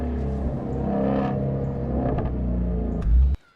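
A sports car engine rumbles deep and steady, builds briefly near the end, then cuts off abruptly into silence.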